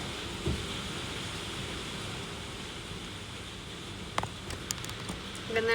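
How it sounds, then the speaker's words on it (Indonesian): Steady rain falling outside at night in Indonesia, a continuous soft hiss with a few brief knocks and clicks near the end. "Soalnya di sini lagi hujan."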